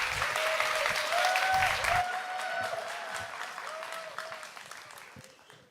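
A church congregation claps together, strong at first and gradually thinning out, with sustained musical tones ringing beneath the applause.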